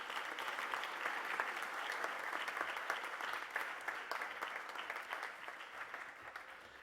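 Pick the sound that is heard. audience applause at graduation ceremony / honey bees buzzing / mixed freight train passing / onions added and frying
audience applause at graduation ceremony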